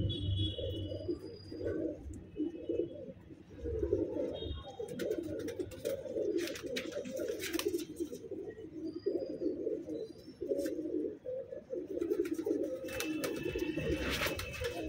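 Madras pigeons coo steadily throughout in low, rolling murmurs, several birds overlapping, with occasional higher chirps and scuffling above.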